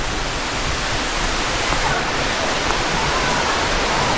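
Twin Falls in Kalayaan, Laguna roars as a loud, dense, unbroken rush of falling water, close and steady.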